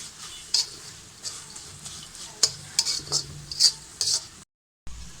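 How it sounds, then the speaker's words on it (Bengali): A spoon stirs vermicelli into milk for a chilled vermicelli dessert, scraping and clinking against the pot in irregular soft strokes, close and fairly quiet, with a brief silent gap near the end. "সেমাইটা দিয়ে ভালোভাবে মিশিয়ে নিতে হবে।"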